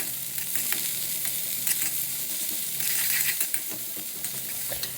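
Chopped onions, green chilies and capsicum fry in oil and ghee, making a dense, near hiss of sizzling laced with small clicks and light metallic taps from stirring.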